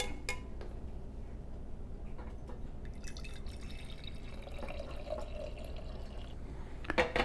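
Cooked sugar syrup for a Vietnamese three-color dessert is poured out in a kitchen, quiet drips and trickles with a few soft clinks of a pot and utensils, growing louder at the end.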